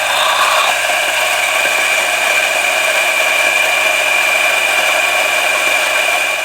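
A DF83 coffee grinder mills 18 grams of coffee beans with a loud, steady high-pitched whir that runs unbroken from start to finish.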